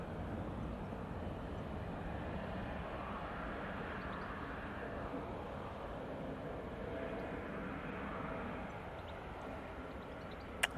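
A delayed airliner passing at Manchester Airport, its engine roar a steady, distant, fairly faint rumble holding evenly throughout with no talk over it.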